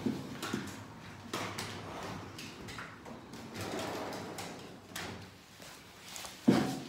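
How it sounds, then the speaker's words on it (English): A door being shut in a quiet room, with faint shuffling and handling sounds before a short, sharp closing thud near the end. "let me close my door"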